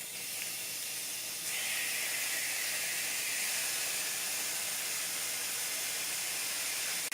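Ground beef sizzles loudly in a skillet over medium-high heat, a steady broad hiss that jumps louder after a second and a half and holds close and unbroken to the end.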